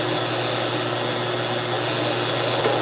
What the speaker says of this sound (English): center drill.